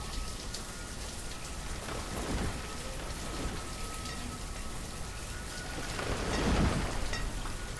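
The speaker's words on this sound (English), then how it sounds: "And it's raining." Continuous video game rainfall hisses evenly with occasional low rumbles swelling underneath, moderately loud and without any talking.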